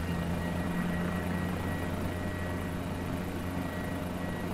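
The rotor of a Guimbal G2 helicopter spools up in the Microsoft Flight Simulator 2020 game, a steady, dense turbine and rotor drone with a low throb, continuous and even throughout with no speech.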